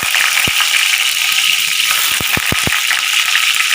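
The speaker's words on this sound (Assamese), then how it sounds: "এয়া মোৰ পনীৰখিনি মই এতিয়া ভাজিম" Paneer frying in hot oil in a pan gives a loud, steady sizzle, with several sharp crackling pops near the start and a quick cluster toward the end.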